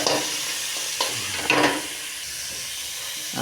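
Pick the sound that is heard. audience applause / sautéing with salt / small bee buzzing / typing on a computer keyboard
sautéing with salt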